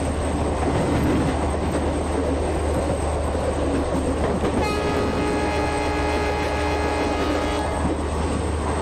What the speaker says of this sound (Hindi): तो मैंने हॉर्न भी बजा दिया।